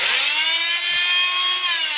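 An oscillating multi-tool, a model used for removing grout, sawing holes in flooring and sanding, whines loudly and steadily at close range with a high buzzing pitch, running continuously with no talk.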